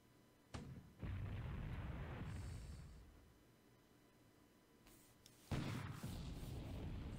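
Heavy naval gunfire from a destroyer in a WWII strategy video game, sounding as a few loud booming blasts with rumbling tails, one near the start and another burst later.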